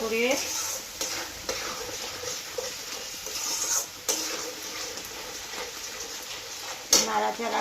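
Rohu fish frying for curry as turmeric is stirred in, a close sizzle under recurring scrapes and clatters of a spoon against the pan, with a sharper knock near the end.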